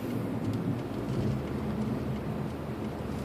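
A winter snowstorm heard from a car driving at dawn, a dense steady roar of wind and precipitation with low rumble throughout, no speech.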